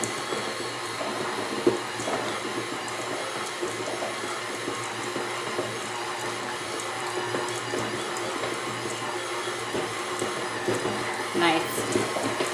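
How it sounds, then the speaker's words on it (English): A stand mixer strains while kneading stiff dry fondant dough, its motor humming steadily at moderate volume for the whole stretch, with faint bumps and knocks mixed in. "You can see the mixer's really having to work."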